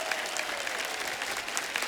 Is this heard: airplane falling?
no